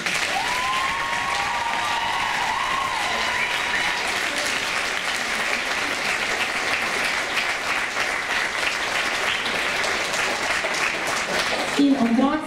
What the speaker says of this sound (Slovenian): Aplavz, otroci.